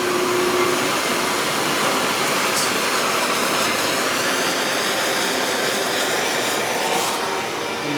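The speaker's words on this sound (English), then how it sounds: "we're gonna try to heat treat this thing using the propane torch" A propane torch heats a mild steel knife blank, giving a loud, steady, unbroken roaring hiss that fills the whole stretch.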